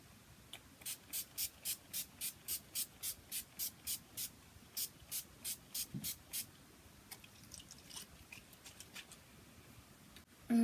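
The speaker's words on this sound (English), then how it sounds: "To make sure this makeup lasts all day, I'm going to be using the NYX Matte and Finish Spray" NYX Matte and Finish setting spray misted in a long series of short, evenly spaced pumps, quiet and close with a brief pause partway, no talking.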